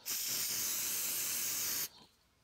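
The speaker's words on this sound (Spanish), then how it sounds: "un poquito del componente B que es el que hace que seque inmediatamente el cianocrilato" Cyanoacrylate glue activator, component B, sprayed from a can in one steady hiss lasting almost two seconds, close and loud, then cut off sharply.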